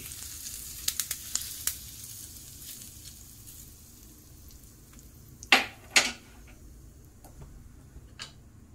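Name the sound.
tempering sizzling as it is poured over besan vadis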